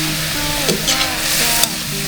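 Prawns sizzle in garlic butter in a hot pan, a loud continuous crackling hiss with a few sharper spatters and clinks of stirring, close up.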